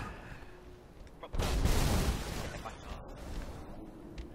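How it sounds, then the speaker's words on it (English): A thrown grenade explodes in the Halo Reach video game, a sudden heavy boom that erupts partway through and rumbles on under steady game noise. "I threw a grenade."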